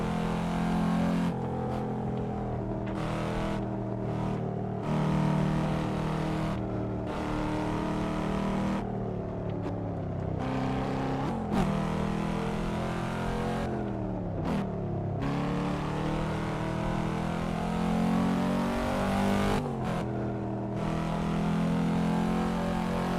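A car engine in the Assetto Corsa racing simulator revs and climbs through the gears over a lap, pitch rising and dropping at each shift, loud and continuous with no talking.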